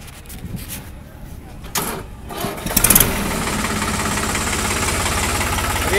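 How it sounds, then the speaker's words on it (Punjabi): A tractor at a tractor market in Kotkapura cranks and starts, then settles into a loud, steady knocking diesel idle close by, with people talking briefly before it starts. "ਇੱਕ ਵਾਰੀ ਬਾਈ ਤੋਂ ਸਟਾਰਟ ਕਰਵਾ ਕੇ ਵੇਖ ਲੈਂਦੇ ਹਾਂ ਟਰੈਕਟਰ ਕਿਵੇਂ ਆ ਆਵਾਜ਼"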